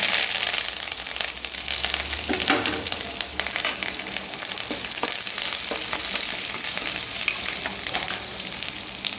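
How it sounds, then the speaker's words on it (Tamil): Onion sizzling hard in a pan with ginger and garlic, a loud continuous hiss of frying close up, broken by a few scrapes and stirs, with no voices. "இஞ்சி பூண்டு சூப்பராக மனம் இருக்குது வெங்காயம் போட்டுக்கலாம்"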